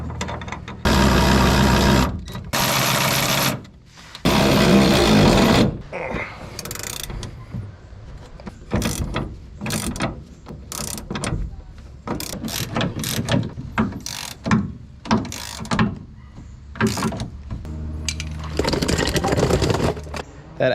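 A ratchet tightens a nut on a suspension bolt of a Silverado 2500 LML Duramax pickup, with long loud runs of rapid clicking and then shorter bursts of clicks mixed with clanks of tools against metal.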